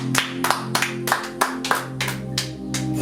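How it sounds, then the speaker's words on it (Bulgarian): Congregation in a church service clapping together in a steady, rhythmic beat, loud and close, with sustained music or organ tones underneath and no speech. "Може да ръкопляскаме за Исус."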